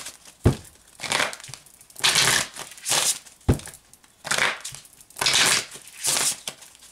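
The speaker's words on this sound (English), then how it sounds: "Let me shuffle again." Tarot cards are shuffled in repeated papery bursts, with sharp riffling crackles and soft snaps recurring every second or so, close by with no talking.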